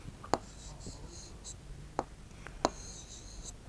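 A pen handwriting an Urdu word on paper or a board, several distinct tapping strokes separated by soft scratching, close and clear, with faint voice sounds beneath.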